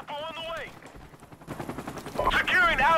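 Rifle gunfire from an M40 sniper rifle in Modern Warfare Remastered, loud sharp bursts in the second half, with a voice talking over the start.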